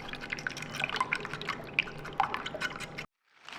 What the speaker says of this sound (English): we're going to whisk this up.